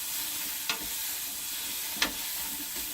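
Onions sizzle in a frying pan for vegan chilli, a steady crackling hiss broken by two sharp scraping strokes of the spoon as they are stirred.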